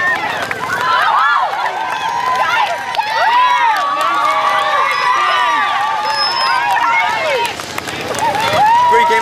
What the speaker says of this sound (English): Tonight, thousands cheer on the Olympic flame as it tours Canberra suburbs.